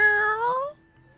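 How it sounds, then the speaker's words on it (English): A cat gives a single clear, drawn-out meow from upstairs. It sounds loud and tonal, then fades into near silence. "I've been hearing strange cat sounds from up above"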